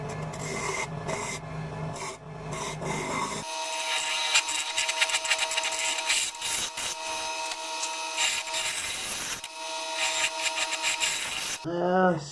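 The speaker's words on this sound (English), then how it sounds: "Let's take the skew, see if we can't smooth it out of." A skew chisel cuts a wooden bowl spinning on a lathe, giving a continuous close scraping and hissing cut with fluttering texture that briefly eases and resumes.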